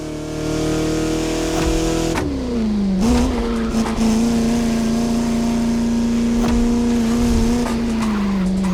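A Bugatti in The Crew Motorfest on French countryside roads, its engine holding a loud, steady drone that dips and rises through gear changes, with tyre squeal and skidding over the top.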